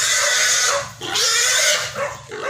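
A 93-kilo fat pig about to be roasted squeals loudly and close, in three long, strained, harsh cries separated by short breaks.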